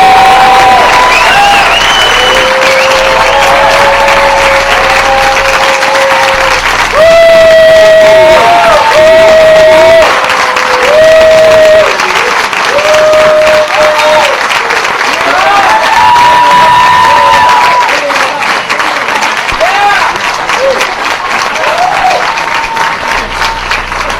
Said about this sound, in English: I think she needs another round of applause.